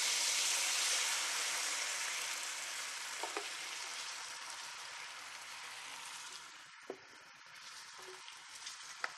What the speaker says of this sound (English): I'm going to deglaze this pan with red wine.